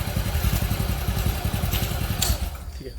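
A motorcycle-type vehicle passes close by on a sugar institute campus, its engine giving a low, rapid, throbbing rumble with some clatter that stays steady before easing off.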